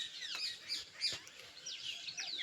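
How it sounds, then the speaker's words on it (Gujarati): Small birds and a parrot chirp in quick, high, scattered calls, faint and somewhat distant, with no voices. "પક્ષી કિલોર કરતા હોય ને એટલે"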